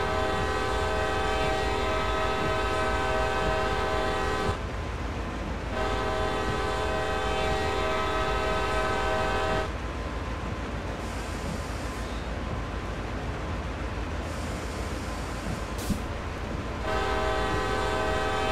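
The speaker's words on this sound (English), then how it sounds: "There we go, another whistle." A CSX GP38 diesel locomotive horn in Train Sim World's CSX Heavy Haul, sounding in several long loud blasts separated by pauses, over a steady rumble of engine and rolling freight cars.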